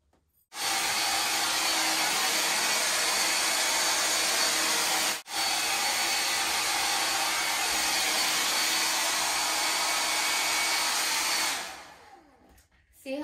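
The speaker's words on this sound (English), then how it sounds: "To speed up the process of blow drying your hair without blowing too much heat into it, flip your hair over" A hair dryer blows steadily on hair for over ten seconds, a loud continuous rushing whir with one brief cut-out midway before it winds down.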